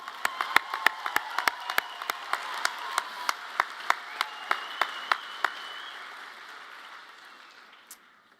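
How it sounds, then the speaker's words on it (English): Applause from a commencement ceremony audience, with sharp, regular claps that sound close and stand out over a dense wash of clapping from the crowd. The clapping fades gradually toward the end. "Yes, let's applaud,"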